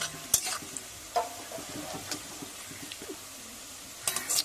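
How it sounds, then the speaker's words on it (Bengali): Onions fry in a pan for chicken curry, browning until deep red, with a soft steady sizzle broken by sharp scraping stirs and clinks of a spatula against the pan. "পেঁয়াজগুলোকে পুরো লাল করে নেবো আমরা ভেজে"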